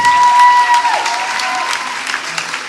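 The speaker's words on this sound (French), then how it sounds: "vous pouvez encore les applaudir, vraiment." Audience applause at a women's church conference session, a dense steady wash of clapping from a crowd that tapers slightly toward the end.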